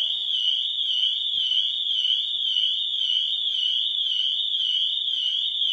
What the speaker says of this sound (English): with the shock sensor, as you can see, that triggers the alarm system off